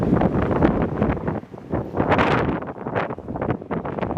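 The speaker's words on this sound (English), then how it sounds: "As you can see, it's a windy day," Strong wind buffets the microphone in loud, rough gusts, swelling and easing continuously with no voices.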